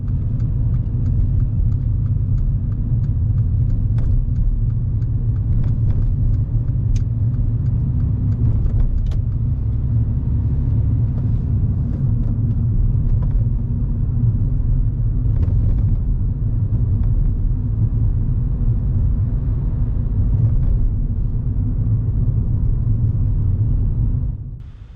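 A car on a mock driving test in Ashford, London, circles a roundabout, heard from inside as a loud, steady low engine and road rumble with faint interior ticks and rattles, and no talking.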